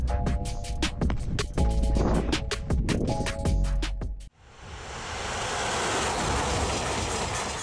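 A high-speed train running at 348 km/h produces a loud, steady rushing roar that sets in abruptly about halfway through, after an earlier stretch of rhythmic, tonal clattering.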